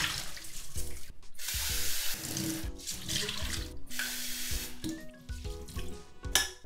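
Tap water runs hard into a pot of rice being rinsed in a home kitchen, a steady close splashing rush with brief pauses and shifting tone as the pot fills.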